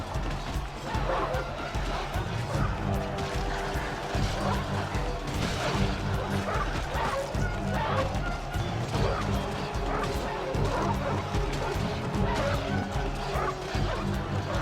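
War dogs bark and yip repeatedly amid the constant clash and crowd roar of a Rome: Total War battle against peasants, dense and continuous.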